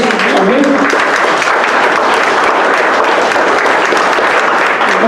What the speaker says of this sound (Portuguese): Levante, manifestando o teu amor, tua glória ao Senhor, com um forte aplauso nessa noite.